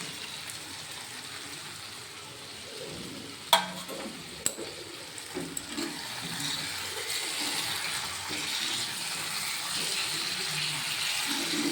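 Egg and potato curry simmering in a pan after water has been poured in, a steady bubbling sizzle with a few sharp clinks of a spoon against the pan near the middle.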